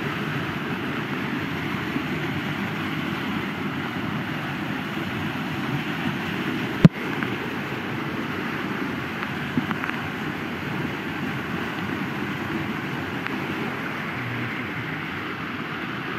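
Heavy rain pours steadily in the middle of a forest, a dense broadband hiss with one sharp click partway through, no voices.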